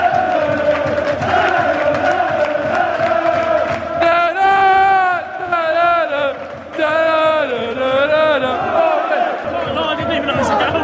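Football crowd at a Mansfield versus Hartlepool match roaring after a goal, a loud sustained wall of cheering and chanting with rising and falling whoops, people talking nearby through it.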